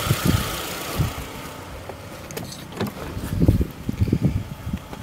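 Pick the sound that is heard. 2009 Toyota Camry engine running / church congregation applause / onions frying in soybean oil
2009 Toyota Camry engine running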